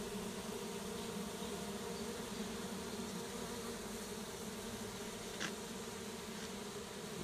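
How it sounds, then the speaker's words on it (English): Bees that have moved into a shed wall hum around their hive in a soft, continuous drone, with a single wing buzz briefly passing close, and no voices. "Bees look like they're doing well."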